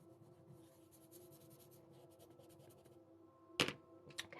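Colored pencil strokes on a paper coloring page, faint close scratchy rubbing in quick repeated back-and-forth strokes while blending, then a couple of louder brief scrapes near the end.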